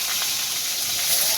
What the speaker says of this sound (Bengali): কালো জিরে ফোড়ন দিয়ে